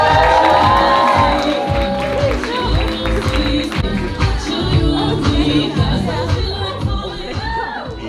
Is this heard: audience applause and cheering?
yes